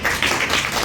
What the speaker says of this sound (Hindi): ताली बजाओ उसके नाम से।